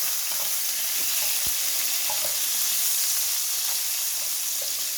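Garlic frying in a pan as part of a simple home recipe with fish, cabbage and potatoes: a steady, loud hiss of sizzling oil fills the whole stretch, with a few soft scrapes and taps of stirring and no talk.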